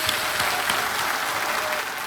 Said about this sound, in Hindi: तालियों के साथ आपका अभिनंदन करते हैं